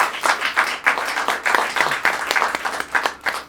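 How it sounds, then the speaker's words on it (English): Applause from a small audience at a theater studio event, a short burst of uneven, fairly close clapping from a modest group. "I do this to get applause every year"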